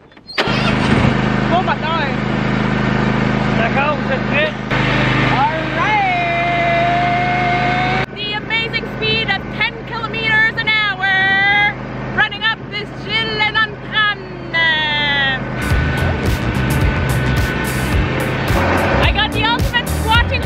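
A tractor engine starts and runs loudly for a rural outing near Quebec City, a steady rumble with rising and falling revs under people talking, then a rougher burst of revving near the end.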